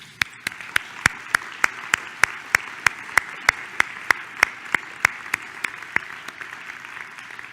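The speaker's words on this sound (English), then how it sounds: "Okay, we can go ahead and applaud now." At an academic society presidential address, clapping comes as sharp, evenly spaced claps in a steady metronomic rhythm, fairly close and moderately loud over a quiet room, sounding like one or a few people.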